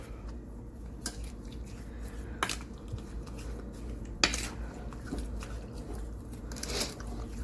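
Cooked rice being mixed with seasoning and sugar in a bowl makes quiet, wet, sticky squishing, with occasional sharp clicks of a utensil against the bowl.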